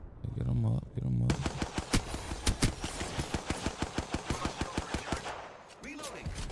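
Rapid bursts of gunfire from a video game shootout, a dense run of sharp repeated shots after a brief opening of talk, fairly loud and close with a few pauses near the end.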